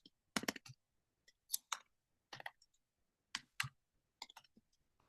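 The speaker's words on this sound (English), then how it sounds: "Nobody judge you can hear me typing." Typing on a computer keyboard during a Zoom call, sharp, close clicks arriving in brief uneven bursts separated by silence, slow and hesitant, with no speech.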